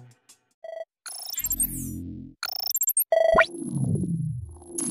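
A notification bell rings out as a synthetic sound effect: a quick sequence of bright chimes and tones that ends in a swooping ring, loud and alone with no talking.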